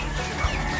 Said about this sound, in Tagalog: Silky Chinese chicken.